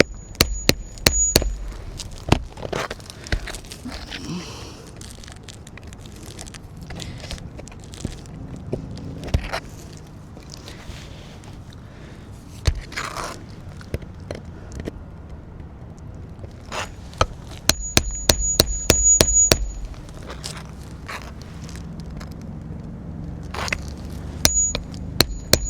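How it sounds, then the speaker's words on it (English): Nails are pried out with a claw hammer in a string of sharp clicks, knocks and scraping strikes spread unevenly, some in quick clusters, with quieter pauses between. "Okay, so now all my nails have been removed."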